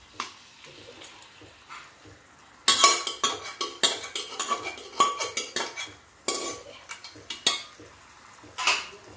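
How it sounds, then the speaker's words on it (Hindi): Cooked urad dal stirred into a hot tadka in a metal pan, a spoon clanking and scraping against the pan in rapid, irregular knocks with a faint sizzle underneath. "अब तड़के में हम ये दाल मिक्स कर देते हैं।"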